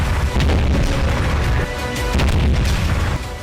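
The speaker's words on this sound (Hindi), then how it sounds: "मिसाइलों से दो तरफा प्रहार" Missile and rocket strikes in the Nagorno-Karabakh fighting produce heavy, rumbling explosion booms that overlap continuously for several seconds, loud and close, with blasts swelling and fading.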